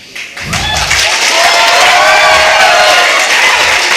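A large crowd at a medical college freshers day celebration bursts into loud, sustained clapping and cheering that swells quickly after a brief quieter start, with excited voices shouting through the dense applause.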